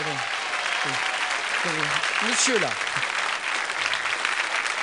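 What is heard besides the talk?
studio audience applause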